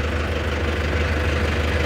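A tractor idles with a 10-foot rotavator hitched behind it, giving a steady, close, low engine rumble that holds evenly throughout.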